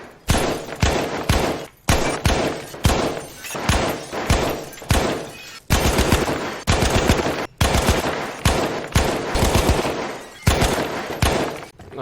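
Rapid gunfire from Battlefield 1 shooting out lights inside a building, loud bursts of automatic fire broken by short pauses, with shattering and thuds, no speech.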